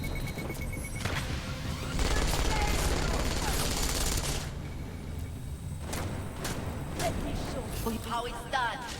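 An automated turret in the game Deus Ex: Mankind Divided fires rapid bursts of gunfire, dense rattling volleys loudest around two to four seconds, with game noise and a voice talking over it.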